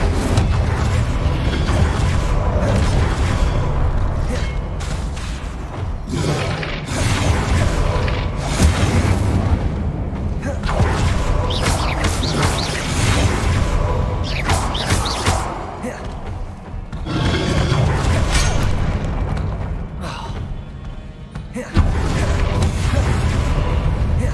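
Incendio fire spell cast in Hogwarts Legacy gameplay, heavy booming bursts over a dense, continuous roar of game effects and music, loud and sustained, with a voice speaking at points.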